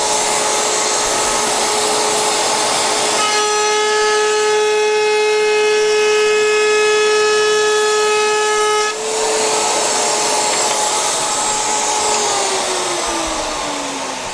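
A router table cuts wood with a dust extractor running, giving a loud, steady whine throughout. A brighter tonal layer joins midway, then the pitch winds down near the end.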